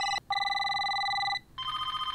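Telephone ringing in the 2005 film Constantine, a close, clear electronic ring in two bursts separated by a short pause, with no talk over it.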